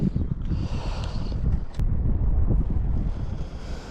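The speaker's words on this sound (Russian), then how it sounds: "Надо ждать, пока ветер надуется в одну сторону, сменит направление, либо утихнет, чтобы выполнить заброс." Strong, steady wind buffets the microphone while fishing from a boat on open sea water, a continuous low roar with gusts and faint water sounds throughout, no talking.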